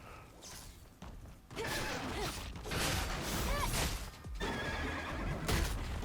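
A demon horse in the video game Stellar Blade neighs and whinnies repeatedly, with clip-clopping hooves and mechanical creaks in a busy game soundscape, loud and close.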